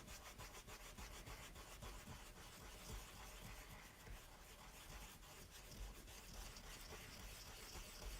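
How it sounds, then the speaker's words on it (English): A rubber eraser scrubs steadily across drawing paper, a continuous close, soft rasping with quick back-and-forth strokes and no pauses, no voices. "Put this horrible eraser to work."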